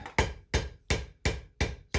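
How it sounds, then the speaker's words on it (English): Cross peen hammer striking a metal armring workpiece on edge, six sharp ringing blows at a steady rhythm about a third of a second apart, close and loud with no talk. "I'm going to strike it on edge using a cross peen"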